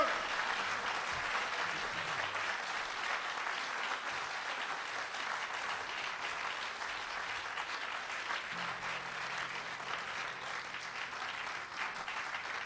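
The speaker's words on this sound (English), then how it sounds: "Not used to people applauding" An outdoor festival concert audience at Festival on the Green applauds steadily for nearly thirteen seconds, a dense, even wash of many hands clapping with no talking over it.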